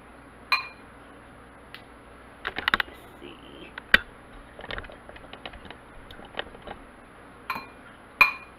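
Breaded pickles being moved around in beaten egg in a bowl produce sparse light clinks and taps of utensil against the dish, with quiet wet handling between the hits.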